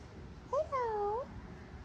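A pet cat gives a single short two-part meow, close by and fairly clear over quiet room tone in an indoor setting.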